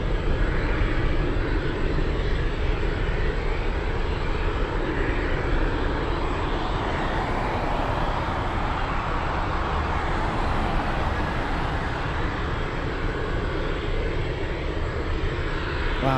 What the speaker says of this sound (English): Former EVA passenger 747, that one.